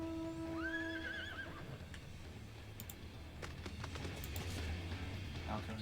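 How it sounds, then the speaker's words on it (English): A horse whinnies in Final Fantasy XIV, a rising, wavering neigh early on, followed by faint hoof clip-clops and game sounds under steady background music while people talk. "You got your horsey right there."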